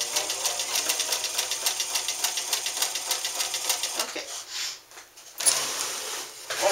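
A Wizard sewing machine stitches calico fabric in a fast, even run of mechanical clatter, then slows and pauses briefly before starting again. The sound is close and steady.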